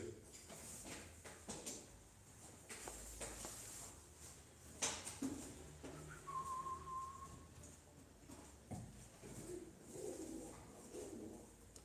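Soft pigeon cooing at a bird auction blends into a busy outdoor background with scattered knocks and rustles, the calls fairly faint and intermittent rather than steady.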